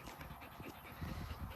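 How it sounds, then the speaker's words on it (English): A pet fox pants close by in quick, rhythmic breaths, soft and steady throughout. "He is a fox."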